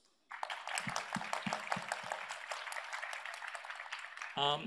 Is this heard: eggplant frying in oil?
no